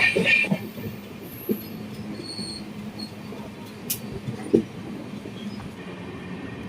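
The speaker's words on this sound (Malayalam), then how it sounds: "മൂന്ന് മിനിറ്റത്തെ സ്റ്റോപ്പിന് ശേഷം കോട്ടയം റെയിൽവേ സ്റ്റേഷനിൽ നിന്ന് ട്രെയിൻ എടുത്തിട്ടുണ്ട്" The Ernakulam–Velankanni Express pulls out of Kottayam railway station with a low, steady rolling rumble, scattered wheel clicks and a brief metallic squeal midway, heard close from aboard the train.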